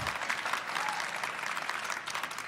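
Audience applause at a live fan convention event, a steady dense patter of many hands clapping throughout, fairly close and even.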